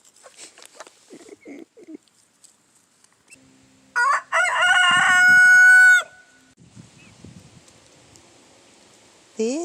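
Chickens on an off-grid homestead: soft, scattered clucks, then a loud, close rooster crow of about two seconds, then more quiet clucking and rustling.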